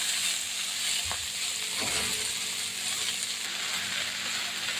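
Chopped gourd leaves being stirred in a frying pan: a steady, close sizzling hiss with a couple of soft scraping strokes, no speech.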